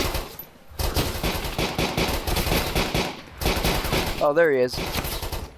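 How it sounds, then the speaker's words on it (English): Gunfire crackles in the military shooter game Arma 2, sharp bursts mixed under a player's continuous talk, with a brief whistling tone near the end. "Now I'm being shot at from somewhere."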